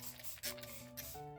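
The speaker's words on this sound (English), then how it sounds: "let's spray it first with water, straight water" A spray bottle mists straight water onto a crinkled-up piece of paper, giving a faint, short hiss over a steady low hum.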